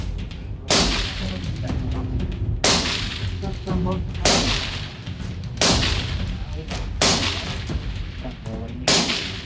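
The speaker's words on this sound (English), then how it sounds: "Watch that guy shoot this thing." Gunshots at an outdoor shooting range, a series of about five loud, sharp cracks at irregular intervals, each with a short echoing tail, close by with some background chatter.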